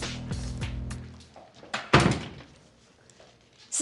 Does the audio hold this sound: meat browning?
no